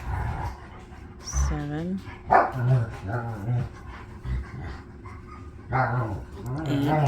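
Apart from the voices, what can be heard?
dogs barking and panting in the house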